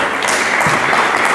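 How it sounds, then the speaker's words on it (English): Audience applause in a plenary session hall at a solar power conference, a dense steady wash of many hands clapping throughout the short stretch, fairly loud and continuous without gaps. "Can we give him a round of applause?"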